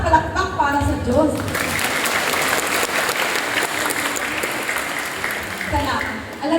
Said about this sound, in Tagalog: Mas malakas na palakpak para sa Diyos.